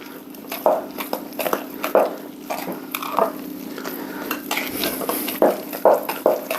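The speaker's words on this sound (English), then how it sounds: "we can move from the whisk to a sturdier spoon, and we just want to mix that all together" A sturdy spoon mixes thick keto chocolate chip cookie dough in a bowl, giving repeated scraping, thudding strokes at an uneven rhythm, close and fairly loud with no talk.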